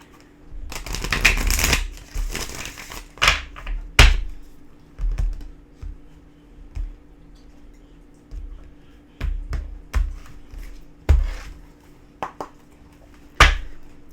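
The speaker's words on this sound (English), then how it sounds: "One more shuffle here." Tarot cards are riffled and shuffled in dense crisp bursts, a long flurry near the start and then shorter snapping riffles spaced apart, close and fairly loud with no talk.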